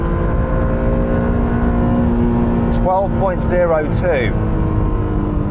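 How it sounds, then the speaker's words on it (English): A sports car, Nissan GT-R Nismo or Honda NSX, launching at full throttle in launch mode, a loud steady engine drone rising through gear changes, with a brief voice heard over it. "Floor the throttle, launch mode, here we go."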